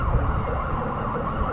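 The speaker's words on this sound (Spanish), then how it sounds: "Eso que escuchan es la ambulancia" A wailing fire engine siren rises and falls steadily in the distance, heard over a low background hum with no voices.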